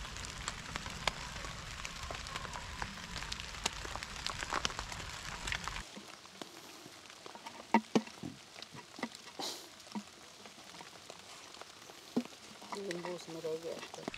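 Heavy downpour during an outdoor cooking attempt, first a dense steady hiss of rain, then lighter scattered pattering and dripping on nearby surfaces.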